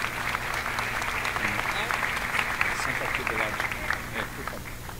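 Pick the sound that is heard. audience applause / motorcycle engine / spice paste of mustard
audience applause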